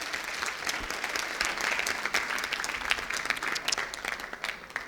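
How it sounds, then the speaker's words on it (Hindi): Audience applause fills an indoor motivational talk, a dense, steady clapping from a sizeable crowd that holds for about five seconds at close range, with no voices over it. "ताली बजाओ अब"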